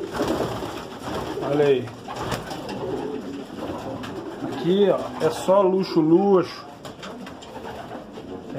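Racing pigeons in a championship loft coo in repeated throaty bursts, close and clear, while someone talks over them in Portuguese for much of the time.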